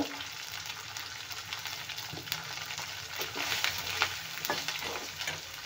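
Cabbage and potato sabzi fries in a pan with a pinch of asafoetida, a steady close sizzle with repeated scraping stirs and crackling bursts throughout, no talking.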